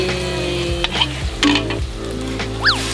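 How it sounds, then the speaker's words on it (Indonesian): Egg frying in a pan of hot oil while cooking tempeh and fritters at home, a steady close sizzle with a few stirring and utensil clinks over it, no talk. "Mau goreng telur dulu."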